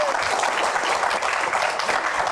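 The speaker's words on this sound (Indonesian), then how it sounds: "Oke, tepuk tangan." A crowd applauds during a lively Q&A event, dense continuous clapping filling the whole moment at an even, loud level.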